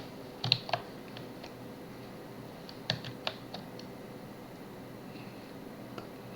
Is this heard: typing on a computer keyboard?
yes